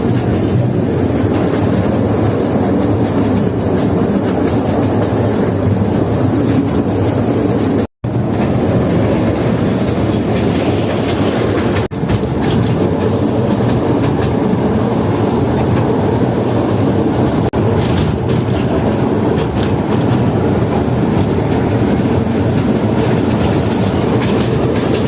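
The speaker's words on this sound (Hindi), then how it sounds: "कितनी खूबसूरत ट्रेन है ये छांगा मांगा के जंगलात में चलने वाली" A toy train runs through Changa Manga forest in Pakistan, its loud, continuous rumble and clickety-clack of wheels on rail joints filling the ride from close by.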